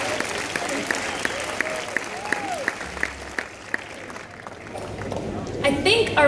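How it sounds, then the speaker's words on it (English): A concert crowd claps in applause, a busy patter of many hands with a few sharper claps, while voices and a short cheer rise in the background. "Give yourselves a round of applause for that."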